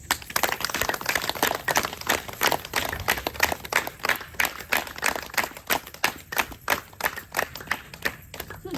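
An audience claps together at a meditation talk, a dense, steady patter of many hands that carries on through the whole stretch with no voices over it.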